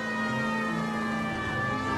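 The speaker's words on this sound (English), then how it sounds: "Does putting on the siren" Police car siren in the LA Noire video game, a steady wailing tone held for the whole two seconds, moderately loud over a busy layer of in-game street and engine noise.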